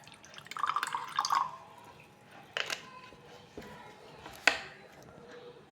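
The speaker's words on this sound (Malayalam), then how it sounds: "കുറച്ച് വിനാഗിറാണ് ഒഴിക്കാൻ പോകുന്നത്." Vinegar poured in a home kitchen, heard as a brief close splashing trickle followed by a few scattered drips and light clinks, quiet overall with no talking.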